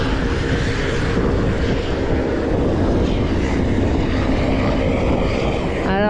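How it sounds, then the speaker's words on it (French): Helicopters flying over Everest base camp make a steady, loud rotor and engine roar that fills the whole stretch without a break. "Les hélicos qui défilent toute la journée."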